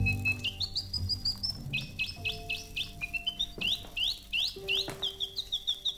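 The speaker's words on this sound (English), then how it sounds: "Mechanical bird." A mechanical bird in a video game sings a long run of bright, rising chirps and trills, fairly loud and close, with soft music tones beneath and no voices.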